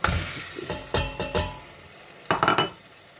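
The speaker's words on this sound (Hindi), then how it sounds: "उसके बाद जी हम मीट डालेंगे, तो मीट को भी भून लेंगे।" Meat with green chillies frying in a pan for pulao, close sizzling with several sharp stirring scrapes of a spoon against the pan in short bursts, no talk.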